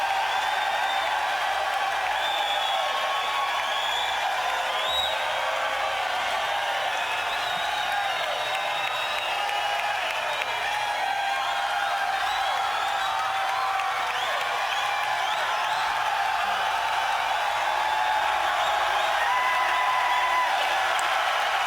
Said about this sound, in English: Crowd's going nuts.